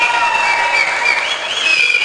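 A crowd at a Janasena Party political gathering breaks into sustained applause, a dense continuous wash of many hands clapping at steady loudness.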